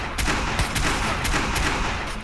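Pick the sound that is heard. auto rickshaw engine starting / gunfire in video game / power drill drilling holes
gunfire in video game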